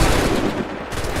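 A volley of muskets fired together in Assassin's Creed, one dense, loud crackling burst of gunfire that holds for over a second and then tails off, with no voices.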